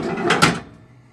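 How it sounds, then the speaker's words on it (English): An RV fifth-wheel trailer's storage compartment door, a 2017 Columbus 320RS, slammed shut with a sharp close-up bang and latch click, then quickly fading to quiet. "Slam latch door again."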